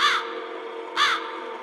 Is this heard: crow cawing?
yes